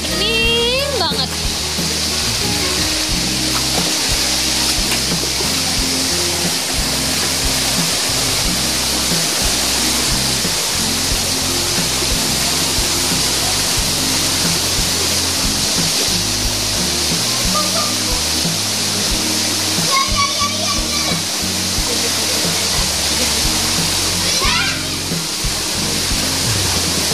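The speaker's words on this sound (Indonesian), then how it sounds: "Air terjun, airnya bening banget." The waterfall at Curug Nangka roars as a loud, continuous broadband rush of falling water close by, steady throughout, with faint voices and occasional brief chirps over it.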